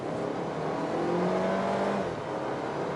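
Steady engine drone from inside a 2019 Mercedes A250 AMG cruising at about 100 km/h, a smooth continuous hum with a slight rising tone and road noise, loud and close with no talk.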